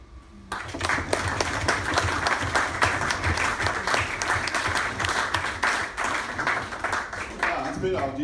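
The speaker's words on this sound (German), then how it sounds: "Applaus." Sustained, dense applause from a crowd at a party conference of the SPD in Dorsten, starting abruptly after a brief quiet moment and continuing steadily and loud with scattered voices mixed in.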